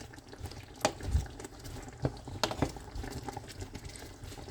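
Cebuano-style escabeche sauce simmers in a pot with faint, irregular bubbling and soft pops, quiet and close, with no voices.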